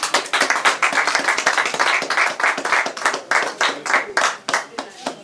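A church congregation welcoming Pastor Baruti in Mbanza Ngungu claps in a brisk, steady rhythm, many hands together close by, with raised voices mixed into the acclaim.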